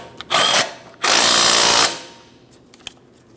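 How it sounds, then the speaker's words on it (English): Power tool snugging the lower wheel hub bolts on a 2008-2016 Chrysler Town & Country during a rear wheel bearing and hub replacement: one short loud whirring burst, then a longer one, close by, followed by quiet clicks. "We'll snug and torque this as well."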